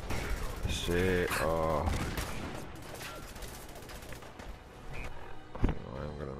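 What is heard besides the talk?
gunfire in the video game Fallout 4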